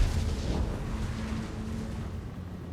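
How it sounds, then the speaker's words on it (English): Artillery from the Queen Bess in Total War: Warhammer 2 drops high explosive shells, a continuous loud, low rumbling barrage of blasts with no clear gaps. "The good old Queen Bess, who can drop high explosive shells directly on your heads."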